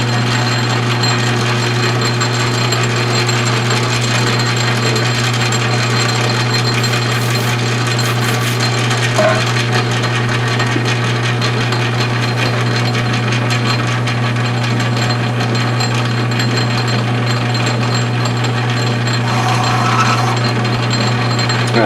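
A metal lathe taking a cut with a hand-ground high-speed steel bit with a small radius, turning a diameter while making an ER collet chuck: a steady loud mechanical hum and whine, continuous and close, with no talking.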